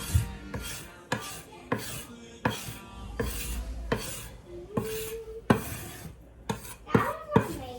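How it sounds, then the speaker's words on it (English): A square-ended spatula scrapes dough off a kitchen counter in a series of short, sharp rasping strokes, close and fairly loud, with a brief clink or two near the end. "Just gonna scrape the counter so the dough doesn't stick."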